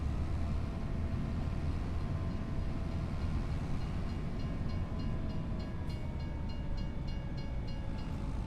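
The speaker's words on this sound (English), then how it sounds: "Oh, train." A train rolls past in Farming Simulator 25, a steady rumbling rail clatter with a faint horn-like tone, loud and continuous throughout, with no talking.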